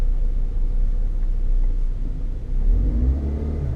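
Racing cars circling a track at a Mini track day, including a 300 bhp Mini and a Toyota GT86, produce a steady, loud engine rumble that swells into a stronger rev near the end.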